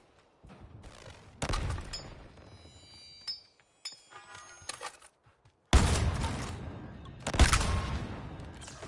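Gunfire in the Suicide Squad video game: several loud bursts of rapid shots separated by quieter gaps, with metallic clinks and ringing tones in between, heaviest near the end.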